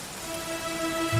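In Dragon Quest XI, rain falls steadily in a brief, even hiss, with a low tonal game sound underneath.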